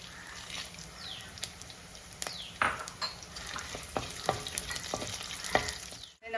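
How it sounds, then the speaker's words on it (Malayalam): Ginger, garlic and dried red chillies fry in oil, a soft, close sizzle broken by scattered sharp taps and scrapes of a spoon against the pan. "നമ്മുടെ ഇഞ്ചിയും വെളുത്തുള്ളി എല്ലാം നന്നായിട്ട് മൂത്തിട്ടുണ്ട്"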